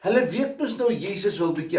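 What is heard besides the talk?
None of the usual background noises is heard.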